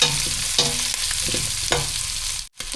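Giant eggplant and meat stir-fried in a pan, with steady loud sizzling and several scraping stirs of a utensil against the metal, ending in a brief drop-out before the frying resumes.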